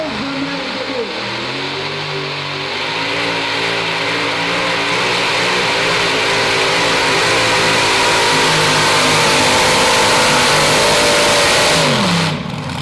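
A heavily modified pulling truck named Blue Thunder 2 revs hard at a northern New York truck and tractor pull, its loud, sustained engine roar climbing and wavering in pitch for about twelve seconds before cutting off abruptly.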